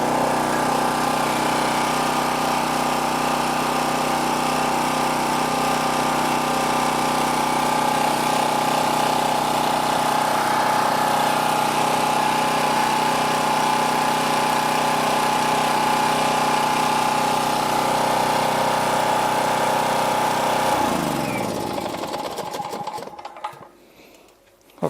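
A Champion 4375 portable generator runs after an oil change, a loud, steady droning engine hum held for about twenty seconds, then winding down and cutting off near the end, close with no talk.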